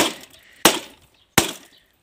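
Two crisp blows crack mirror glass, each a bright, close smash with a short shattering tail, separated by a moment of near silence.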